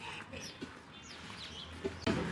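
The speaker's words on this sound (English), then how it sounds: "There's a chicken coop over here." Quiet clucks and short squawks from chickens at a coop in Austin, Texas come through faint background noise, with a louder burst at the end.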